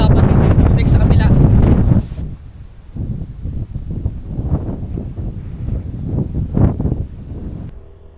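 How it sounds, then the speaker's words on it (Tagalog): Strong wind blows on a coastal road in Dingalan, Aurora, during a Honda Beat FI motorcycle ride, a loud roaring gust at first, then dropping to lower buffeting rumbles. "Lakas ng hangin."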